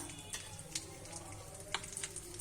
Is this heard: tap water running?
no